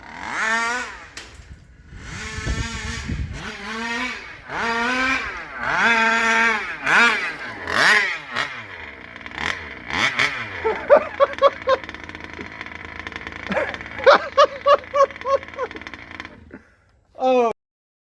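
A rebuilt Rovan 30.5 gas engine revs at half throttle in repeated rising and falling bursts, loud and close. Shorter, sharper blips follow, and it cuts off abruptly near the end.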